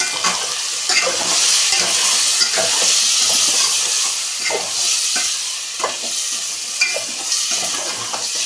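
Egg biryani mixture with chicken masala and salt being stirred in a hot pan, loud steady sizzling hiss overlaid by repeated scraping and clinking of a spoon against the metal, close up with no voices.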